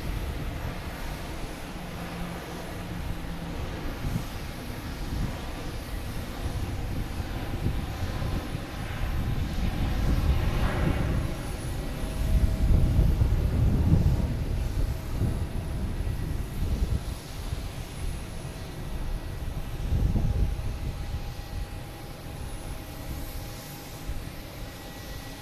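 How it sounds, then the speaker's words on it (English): A Delta Airbus A330-900 jet airliner on Flight 112 to Rome rumbles at Boston Logan Airport, its broad engine roar swelling to a peak mid-clip and then easing off, heard from a distance. "now we have that Delta heading to Rome. Flight 112,"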